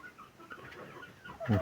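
An 18-month-old rooster giving a short cluck or crow near the end, brief and moderately close over a quiet farmyard background.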